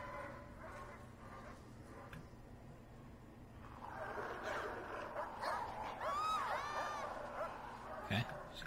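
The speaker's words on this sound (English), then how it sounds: "Okay, she just got bitten by dogs." Dogs attack a prisoner in Prison Architect, heard as yips, whimpers and a sharp whining cry over low ambient hum, while a person talks throughout.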